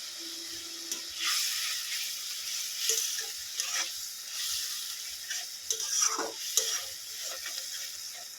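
Paste of two large tomatoes and green chillies with turmeric fries in oil for a rohu fish curry, a soft continuous sizzle punctuated by scraping spoon stirs and light clinks in the pan.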